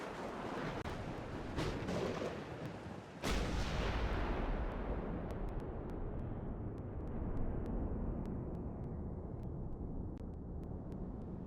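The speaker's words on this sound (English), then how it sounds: "Gunfire!" Heavy, booming gunfire and explosive blasts from the video game Max Payne 2: The Fall of Max Payne roll continuously, with a sharp burst midway and scattered cracks over a dense rumbling background.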